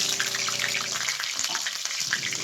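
Chopped onion with nigella seeds frying in hot oil in a home kitchen, a steady hissy sizzle throughout, fairly loud and close, with faint crackles and no talking.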